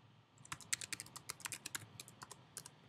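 Quick, uneven keystrokes as a password is typed on a computer keyboard, soft and close, in short bursts of clicks with brief pauses and no voices.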